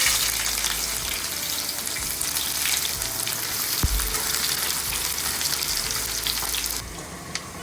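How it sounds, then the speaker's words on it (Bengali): Sliced onions for beresta frying in hot oil, a steady close sizzle that carries on alone with no one talking, and a faint soft clink of a utensil partway through. "এবারে বেরেস্তাটা তৈরি করে নেব এই ডিমের কোরমা আর বিরিয়ানির জন্য।"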